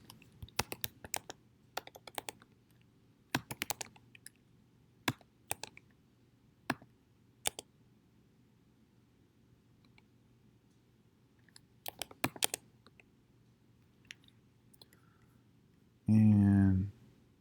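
Keys on a computer keyboard are typed in short bursts of sharp clicks with pauses between, close and crisp in a quiet room, ending with a brief burst of voice.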